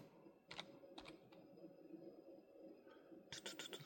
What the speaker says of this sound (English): Let me just type it in real quick.